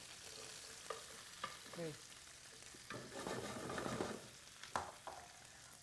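Chopped onion frying in rendered beef fat in a hot pan for beef adobo sa gata, a soft steady sizzle with scraping stirs and clinks of the utensil, fairly quiet, with a brief spoken word.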